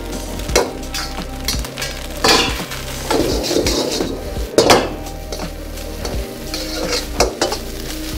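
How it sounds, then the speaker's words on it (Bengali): Fried rice being stirred with pieces of fried chicken in a pan, a loud, constant sizzle with repeated scraping and clanking of a metal utensil against the pan. "রাইসটা দিয়ে একটুখানি নাড়িয়ে নিয়ে যে চিকেনটাকে ফ্রাই করে রেখেছিলেন ওই ফ্রাইটাকে দিয়ে দেবেন এর মধ্যে"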